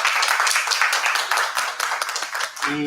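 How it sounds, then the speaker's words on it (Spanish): An audience at a book presentation in a bookstore applauds steadily, a dense patter of many hands clapping close by for nearly three seconds before it drops off and a brief tonal sound enters at the end. "Les pido un aplauso para nuestros invitados del día de hoy aquí en Miguel Amarante."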